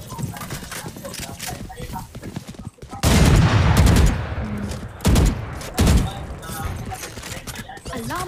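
Swarm grenade from the video game Valorant, several loud popping bursts clustered at close range over ongoing game sounds and hoof-like clatter, with a voice talking in the background.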